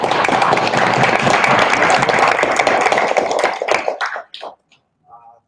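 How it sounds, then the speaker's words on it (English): Union membership meeting audience giving a round of applause, a dense, loud burst of clapping that holds steady for several seconds, then thins into a few scattered claps and fades to quiet. "Let's give them a round of applause."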